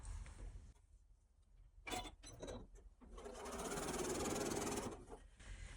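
A sewing machine stitches fabric rectangles together, with a few soft clicks and then a steady, fairly quiet motor hum lasting about two seconds in a calm room.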